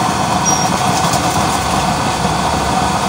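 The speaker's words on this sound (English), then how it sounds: "28 holes, super blue flame performance. 4 inch chamber, use oil stove." A used-oil stove with a 4-inch chamber and 28 burner holes, running with a strong blue flame, gives off a loud, steady, close-up roar that holds unbroken for the whole stretch.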